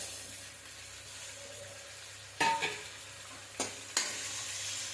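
Curry leaves and coriander lightly frying with onion in a pan, a faint steady sizzle broken by a few sharp stirring clacks from a spoon, no voices.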